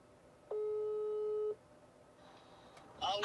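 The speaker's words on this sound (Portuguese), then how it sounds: "Vou ligar pro Val." A phone call to a father starts with a single steady electronic tone from the telephone line lasting about a second, then a short quiet pause before a burst of noisy voice-like sound.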